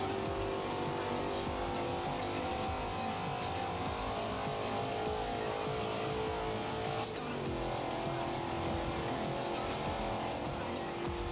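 A Mustang drives in the racing game Forza Horizon 2, its engine a loud, continuous roar sustained at high revs, with a brief dip and shift partway through before the drone carries on.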